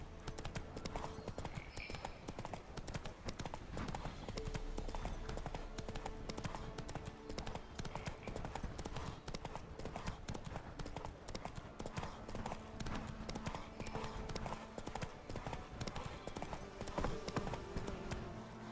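Roach the horse gallops in The Witcher 3: Wild Hunt with a continuous, fast clip-clop of hooves on the ground. Quiet game ambience and music play underneath, and a brief neigh may be heard.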